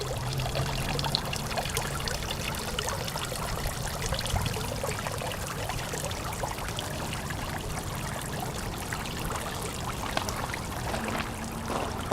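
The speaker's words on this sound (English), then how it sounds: "This is my new, what they call a pond spitter, little turtle." A small turtle-shaped pond spitter sends a continuous trickle of water splashing into a garden pond, a steady close babbling stream with no pauses.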